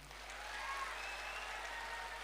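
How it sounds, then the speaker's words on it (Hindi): Faint, steady applause from a crowd at an anniversary celebration continues evenly throughout, with a low hum underneath. "अपनी तालियों से एक बार बजा देंगे"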